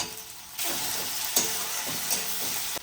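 Chopped garlic, ginger and tomato hit hot oil for a village-style giant river prawn curry, a loud steady sizzle that jumps in abruptly and crackles with brief stirring bursts.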